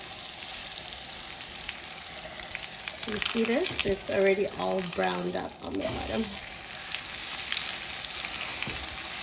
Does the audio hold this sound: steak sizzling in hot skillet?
yes